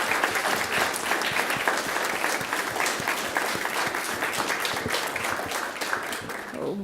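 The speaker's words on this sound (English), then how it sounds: "so we can give you a big round of applause" Audience at a school board meeting giving a sustained round of applause, dense steady clapping from a crowd of people filling the room throughout.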